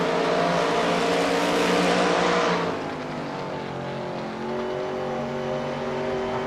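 A loud vintage sports race car engine in Assetto Corsa at classic Spa Francorchamps screams at high revs, then drops abruptly to a lower, rougher drone partway through, close and continuous with no talking.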